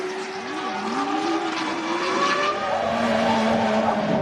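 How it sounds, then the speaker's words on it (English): A Formula One Renault car spinning on an oil-soaked rear tyre at the 2004 Belgian Grand Prix, its engine whining and tyres skidding in a sustained, loud squeal with shifting pitch, heard alone. "causing him to spin and recover, then spin and retire"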